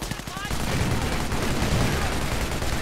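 Heavy machine gun firing in Company of Heroes, a dense sustained burst of rapid shots with battle noise, preceded by a brief clatter at the start.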